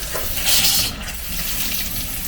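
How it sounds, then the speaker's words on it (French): Cold water gushes from a kitchen tap fitted with an under-sink AMILO charcoal filter bypass, a close, loud splashing rush that surges early, then settles into a steady flow. "il faut ouvrir votre robinet d'eau froide"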